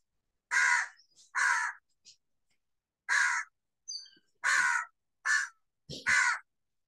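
A crow caws loudly and nearby in a series of about seven harsh, separated calls, with short quiet gaps between them and no talking.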